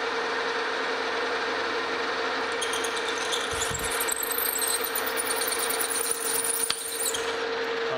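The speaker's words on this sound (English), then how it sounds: "we're just going to drill all the way through the part." A steady, high-pitched drill whine runs throughout at an even speed as a 3/4 inch bit drills through a metal part, with a brief grinding scrape partway through as the bit cuts.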